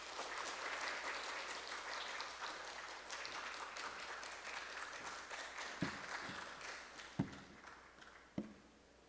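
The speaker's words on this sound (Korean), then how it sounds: "우리 큰 박수로 우리 선교사님 맞이하도록 하겠습니다" A church congregation claps to welcome a visiting missionary to the pulpit for a Sunday sermon: a steady, fairly soft patter of applause, with a few sharper individual claps standing out near the end.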